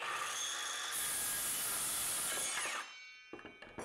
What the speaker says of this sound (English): start the saw and make the cut.